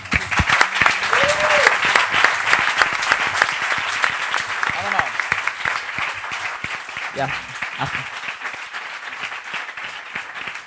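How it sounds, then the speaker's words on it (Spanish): Audience applause at the FCForum 2011 conference, loud dense clapping filling the room for several seconds with scattered voices and cheers mixed in, slowly thinning toward the end. "volvemos a dar un aplauso a la gente"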